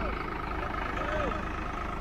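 A Solis 5015 tractor engine idling with a steady low rumble, heard close outdoors.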